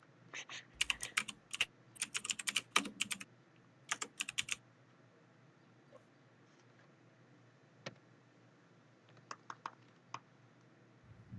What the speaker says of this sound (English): You're gonna hear a click a clacking.